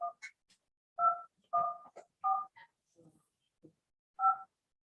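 A telephone being dialed for a phone hearing gives a quick series of distinct touch-tone beeps, close and clean, separated by short gaps of silence.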